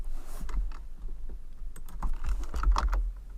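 Sparse, close clicks of keys being typed on a computer keyboard come in short irregular groups, with no talk.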